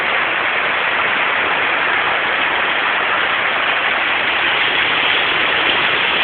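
Heavy rain pours down during a major Manila flood, a dense, unbroken hiss of water that stays loud and steady throughout, with no voices.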